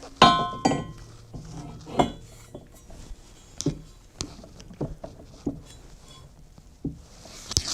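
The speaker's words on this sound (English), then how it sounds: "I'm going to drop my washer there." A metal washer dropped onto a Corvette frame during a swap into a Roadmaster wagon, one sharp metallic clink followed by a series of separate thunks and taps from nearby work.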